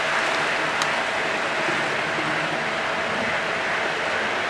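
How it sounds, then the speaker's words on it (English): A diesel freight train rolls past near a level crossing, giving a steady, dense roar of engine and wheel noise that holds at the same loudness throughout with no voices. "that's just like sitting at a level crossing in the States, waiting for a freight train to go by"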